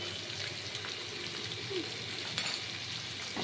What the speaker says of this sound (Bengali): এটা এই তেলে আস্তে আস্তে ভাজা হবে।